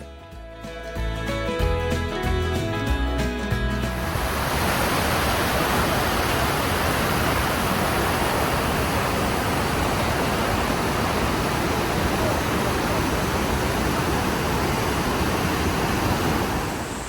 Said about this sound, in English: Iguazu Falls is nearly twice as wide as Niagara Falls, making it one of the largest waterfall systems in the world